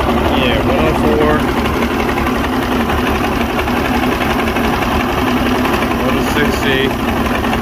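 A Mercury V6 outboard engine on a boat runs steadily after repair, a constant close buzzing drone with a faint rhythmic knock, while someone talks over it.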